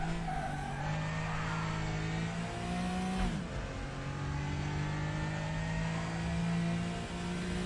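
A Porsche race car engine in the RaceRoom racing game drones loud and steady throughout, its pitch rising and falling with gear changes, a short dip and surge midway, with tire noise layered beneath.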